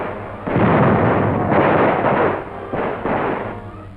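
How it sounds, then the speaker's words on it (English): Grenade blasts clearing WWII pillboxes, a loud sustained roar of overlapping explosions with rolling bursts rising and falling, no voices. "Pillboxes cleaned out with grenades."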